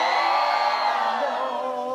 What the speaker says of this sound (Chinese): 第二件事， 尖叫。